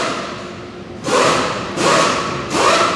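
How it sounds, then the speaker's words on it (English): Three loud bursts of hissing air, each lasting about half a second, from pneumatic air tools in an auto repair shop during a Toyota Tundra seat repair, over a steady background hum. "you may hear some shop air and air tools going off in the background"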